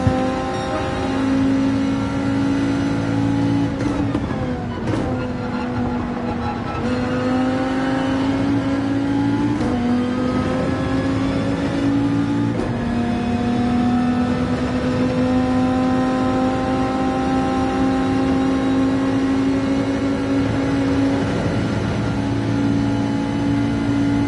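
A race car engine in Gran Turismo 7 revs high and steady, with pitch dropping and climbing again at gear shifts, continuous and loud with no talking.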